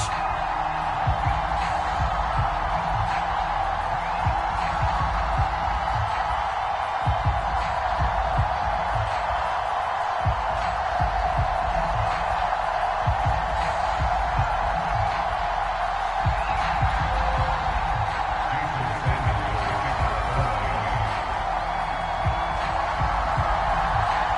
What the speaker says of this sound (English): the Dolphins starters were introduced to this home crowd